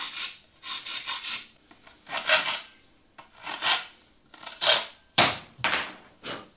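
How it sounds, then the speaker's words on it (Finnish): A sharp hacksaw cuts lightly around a REX walking pole, giving bursts of rasping strokes in an uneven rhythm with short pauses between passes, close and fairly loud, with no voices. "Sitten terävällä rautasahalla ihan kevyesti lähdetään ympäriinsä sahaamaan."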